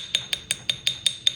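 A rawhide hammer taps thin jewelry wire around a metal ring mandrel, making seven crisp, evenly spaced ringing taps at close range with no other sound.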